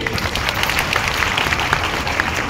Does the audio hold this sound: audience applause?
yes